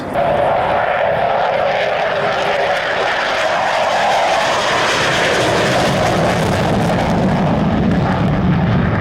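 Loud, continuous roar of an F-15 twin-engine jet fighter flying in the airport traffic pattern at a military air show, steady and close with a deep rumble that grows slightly toward the end.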